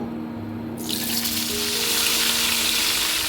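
Koi fish hit hot oil and a sudden, loud sizzle erupts after a moment of low hum, settling into a steady, close hiss of frying.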